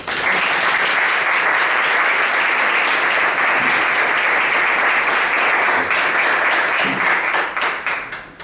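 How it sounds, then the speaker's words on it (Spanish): An audience at a lecture on art and spirituality gives a dense, sustained round of clapping that carries on evenly for several seconds before thinning out and fading. "damos paso a Enriqueta Rocher. Un aplauso"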